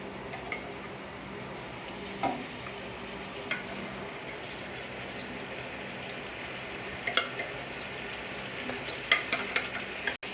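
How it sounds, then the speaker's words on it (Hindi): Beef frying in oil in a kadhai, a steady sizzle throughout with occasional stirring clicks and scrapes, close and moderately loud with no voices. "अब हम इस बीफ को ऑयल में फ्राई करेंगे।"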